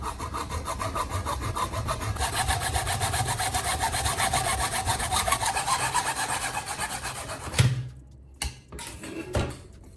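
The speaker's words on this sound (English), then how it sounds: "You cut the pipe with a handsaw using steady strokes." A handsaw cuts through pipe in steady, even back-and-forth strokes, a continuous rasping scrape at close range that stops near the end, followed by a few brief knocks and handling sounds.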